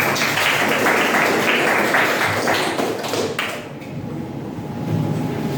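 Audience clapping after a classroom talk on types of intelligence, a dense wash of many hands that stays loud for several seconds, then thins slightly before swelling again.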